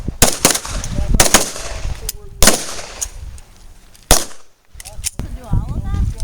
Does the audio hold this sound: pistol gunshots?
yes